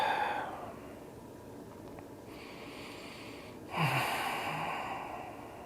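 Deep breathing during yoga practice, slow audible inhales and exhales through the nose, close and soft, with a quiet pause between breaths.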